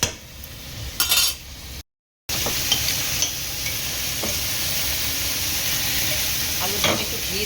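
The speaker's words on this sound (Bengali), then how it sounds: "ভালো করে একটু নেড়ে নিই।" Potatoes frying in a pan with a spoon stirring through them, giving a steady close sizzle with scraping strokes, broken by a brief cut to silence near the start.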